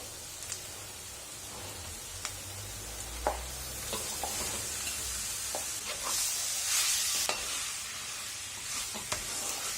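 A spatula stirs mashed tender jackfruit around a frying pan, with soft scrapes and clicks over a steady low sizzle; no one speaks.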